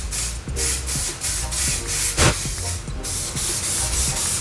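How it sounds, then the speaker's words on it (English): Spray paint can hissing out coral paint in steady broadband bursts, several sprays separated by brief pauses, with a sharper burst midway; loud and close, no talking. "Holy moly, that sprays beautifully."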